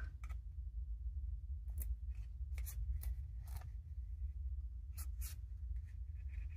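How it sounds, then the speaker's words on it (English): Fingers rubbing down tape edges on a small handmade paper candy-bar box, a series of short dry scratchy swipes over a quiet background. "Rub those edges down."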